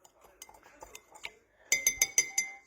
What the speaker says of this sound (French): On va venir un peu mélanger.